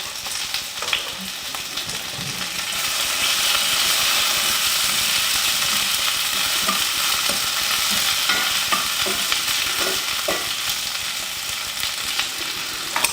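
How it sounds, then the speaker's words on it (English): Garlic sizzling in a hot pan for spruce tip chicken, a loud, dense frying hiss that swells as it hits the oil and holds steady, with occasional stirring scrapes and clicks. "go ahead and throw our garlic in"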